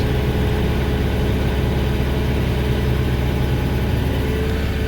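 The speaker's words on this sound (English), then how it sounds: "I am coming down on this high stump by lowering the lift a little bit at a time to get the stump grinder feet on the ground." A Woods SG100 stump grinder runs with a steady, loud engine drone while being lowered onto a high stump, a constant low rumble with no talk.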